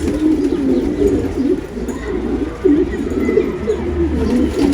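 Pigeons coo repeatedly in soft, rolling low calls from nearby, overlapping one another against a faint background hum, with no clear speech.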